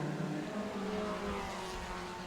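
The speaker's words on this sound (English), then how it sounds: "Puff of smoke at the back of the Kyle Will car there on the gear change" Race cars at The Bend Motorsport Park in South Australia, heard as a continuous, fairly faint engine drone with shifting pitch from a gear change, with no talk over it.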